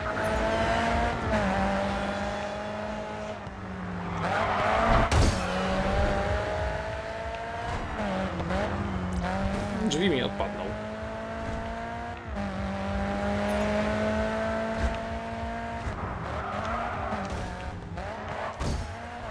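Car drifting in Grid 2, engine revving and dropping through repeated slides with tire squeal and skidding bursts, a sharp impact thump around the middle, continuous and loud throughout.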